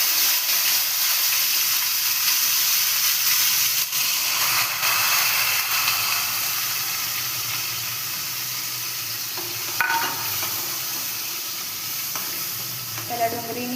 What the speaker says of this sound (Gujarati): તો એની અંદર હવે આપણે ડુંગળી એડ કરીશું।